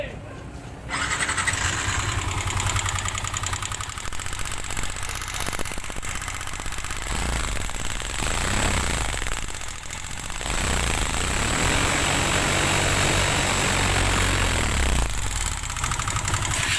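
A noisy Yamaha Sniper 150 motorcycle engine that is running without oil starts and keeps running loud and close for most of the stretch, with a rough, steady roar that dips once midway before rising again.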